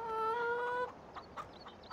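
A chicken lets out a drawn-out tonal squawk, followed by a few short soft clucks nearby, fairly quiet with no speech.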